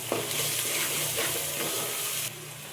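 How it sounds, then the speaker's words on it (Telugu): Masala with salt and chili powder frying in a pan, a dense steady sizzle close by that stays even and then cuts off abruptly near the end. "కొంచెం మసాలాకి ఉప్పు కారం పెట్టి కొంచెం పచ్చివాసన పోయే వరకు, కారం వాసన రాకుండా ఒక 2 minutes అలా వేగనిస్తే"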